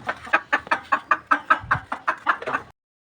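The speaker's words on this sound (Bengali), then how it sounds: "ও মা, মুরগি বসে আছে, মুরগিরে সরাই। ও মা, ডিম পাড়তে বসছিল মনে হয়।" A hen settled on her nest to lay eggs, clucking in a steady run of about a dozen short, close, rhythmic calls that stop abruptly.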